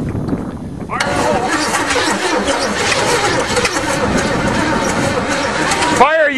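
A hydrolocked 2012 Chevy engine cranks and strains to start with the choke applied, a loud steady churning roar running for several seconds before cutting out abruptly near the end, with voices speaking over it.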